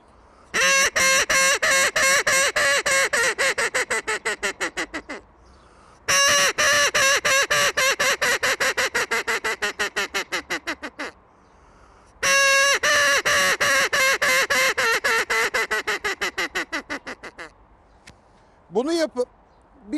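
Three long series of loud, rapid quacking notes from a duck call whistle blowing a high passing call, each run descending and slowing, with short pauses between, then a brief final call.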